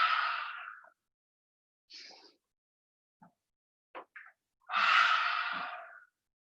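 A person does loud yoga breaths, exhaling hard through the mouth with the tongue out: two long forceful breathy exhales at the start and end, with small quiet breath sounds between them, close and alone.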